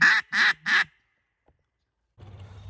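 Three loud, close duck quacks in quick succession during a Tennessee duck hunt, likely wood ducks or mallards, followed by silence and then low outdoor rumble.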